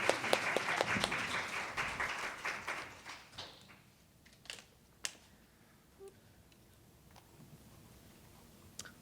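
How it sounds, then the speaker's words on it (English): An audience at a forum applauds a round of speakers, loud dense clapping at first that thins and fades into scattered claps and quiet room noise. "please join me in giving one more round of applause to our speakers today"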